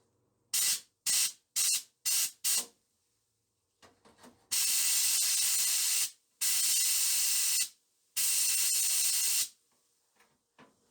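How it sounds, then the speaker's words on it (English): An air compressor-powered sandblaster fires grit at a car's rear jacking point in bursts: five short blasts, then three long steady hissing sprays separated by pauses while pressure builds, loud and close with no talk. "I'll see if I can get a shot from here when I'm actually blasting."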